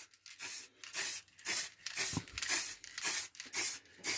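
Spray can spraying over a plywood scroll-saw eagle cut-out in a series of short, hissing bursts with a rhythmic, even pace and brief pauses between, close and loud with no talking.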